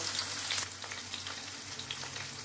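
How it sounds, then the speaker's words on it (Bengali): Chicken strips fry in hot oil with a dense, even crackle and sizzle that holds steady throughout, close and moderately loud, with no voices. "এইভাবে লাল লাল করে প্রত্যেকটা চিকেনকে আমি ভেজে নেব।"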